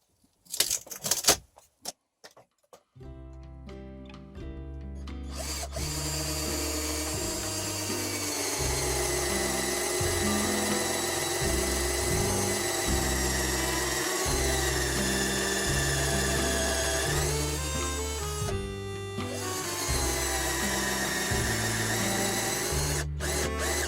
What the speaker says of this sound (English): drill a hole through that shelf